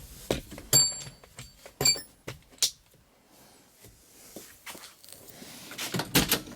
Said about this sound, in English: Got all of those old door sounds.